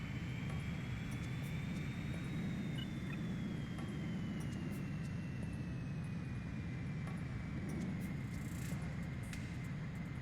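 Enemy aircraft in the video game Ace Combat 3 roar steadily throughout, a loud continuous engine drone with a faint high whine sliding slowly in pitch above it.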